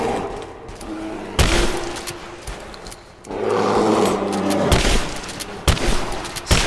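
Bursts of gunfire aimed at a bear in the video game Rise of the Tomb Raider, loud sharp shots in clusters with a sustained rattling stretch in the middle, over game sound and no talk.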